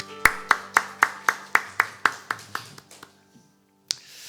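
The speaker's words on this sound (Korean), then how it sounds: "감사와 찬양의 박수 올려드리겠습니다." A church congregation at a Korean morning worship service claps together in a steady rhythm, about a dozen crisp, evenly spaced claps that gradually soften and stop, followed by one last isolated clap.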